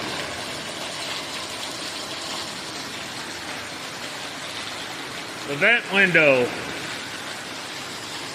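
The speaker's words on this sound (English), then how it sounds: "Of course it's gonna rain now." Steady rain hiss fills the whole stretch, with a voice speaking briefly near the end over the constant downpour, while working on a 1975 Super Beetle door.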